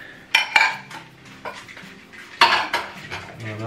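Washed caterer's plates and dishes being stacked back into their container, giving sharp ceramic clinks and clatters in irregular bursts, close and fairly loud, with a quieter scrape between them.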